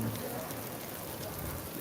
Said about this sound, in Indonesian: Hujan ringan.